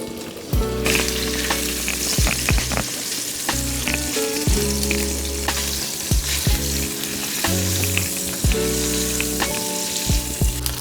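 Smoked sausage sizzles and fries steadily in a pan, a loud continuous crackle with occasional stirring scrapes, no voices.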